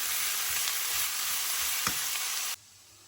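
Chopped beans with salt cooking in a pan, a loud, close, continuous sizzle with faint stirring scrapes that cuts off abruptly near the end, leaving only a low quiet hush as the lid goes on.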